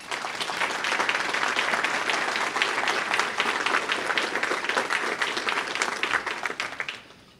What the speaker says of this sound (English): I'd like to hear applause for them, please.